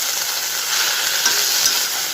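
Washed mint leaves with a little salt sautéing in a pan, a steady broadband sizzle and hiss throughout with faint stirring, no talking.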